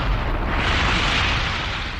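A bomb blast from a military test explosion, heard as a sustained, loud roaring rumble of broadband noise that swells and holds for about two seconds without any pause.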